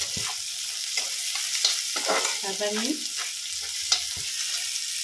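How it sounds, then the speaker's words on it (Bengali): Chopped garlic frying in oil in a pan for a dish of rajma, a steady hiss of sizzling with scraping stirs and clinks from a spoon, while a voice says a few words. "1-2 মিনিট একটু ভাজা ভাজা করে"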